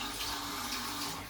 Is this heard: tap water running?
yes